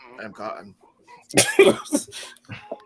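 Someone gives a few harsh coughs right after a brief bit of speech, close to the microphone, followed by faint voice sounds.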